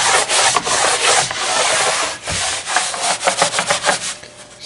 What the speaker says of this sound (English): Progress, but still a lot more sanding to go.